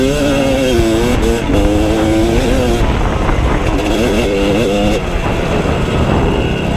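A motorcycle engine roars loud and close as the rider pulls a wheelie, its pitch rising and falling with the throttle under a steady, continuous drone.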